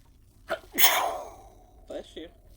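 A single person sneezes sharply at close range, with a quick intake of breath just before it, followed by a few soft spoken words afterward in a quiet room.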